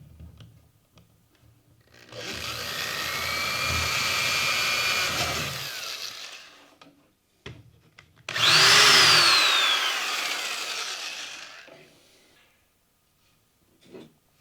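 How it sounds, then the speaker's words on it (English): A power drill boring a 1/8-inch hole into a pipe runs in two loud sustained bursts of whining, grinding noise, each several seconds long, separated by a short pause, with no voices. "Now we will drill the 1/8-inch hole at each end of the pipe."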